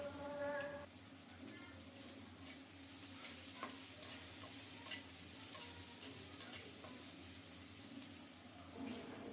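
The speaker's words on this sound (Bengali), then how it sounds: "পেঁয়াজ রসুন সুন্দর মতো ভাজা হলে এখন দিব কুচানো কাঁচামরিচ" Chopped green chilies go into onion and garlic already frying in a pan, giving a steady sizzle under light stirring and scattered scraping clicks throughout, with no talk.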